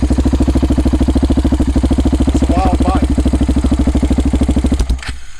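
A KTM 690 Enduro R single-cylinder motorcycle engine runs loud and close with a steady pulsing thump and a brief rise in revs, then cuts off abruptly near the end; a voice can be heard faintly underneath.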